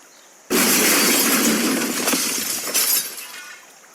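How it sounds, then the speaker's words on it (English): A large amount of glass smashes all at once from a distance, a sudden loud crash followed by a few seconds of scattering, tinkling shards that slowly fade. "The sound of a pretty large amount of glass smash."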